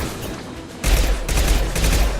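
Gunfire in the video game Mass Effect 2 breaks out suddenly as a loud, dense burst of rapid shots that continues to the end after a brief, quieter lead-in.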